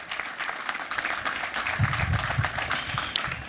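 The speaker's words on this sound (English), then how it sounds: "I think he deserves a round of applause." A crowd at an inauguration event in Ghana applauds the president with sustained, even clapping from many hands, fairly loud and filling the room.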